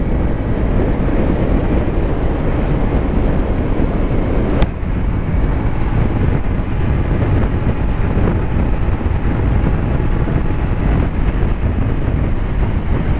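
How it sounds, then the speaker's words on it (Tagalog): A Honda PCX 160 motor scooter being ridden on a road, heard as a loud, continuous roar of wind and engine rumble that stays steady throughout, with one brief click partway through. "grabe tong motor na to."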